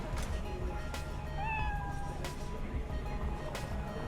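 A cat meows inside the video game Cyberpunk 2077, a couple of clear rising and falling meows over steady background game ambience and music.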